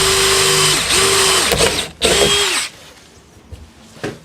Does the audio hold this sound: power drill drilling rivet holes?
yes